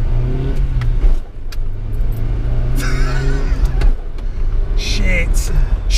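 A Nissan Micra K11 driven hard through the streets of Exeter, its small engine droning and revving close by in the cabin while people talk loudly over it.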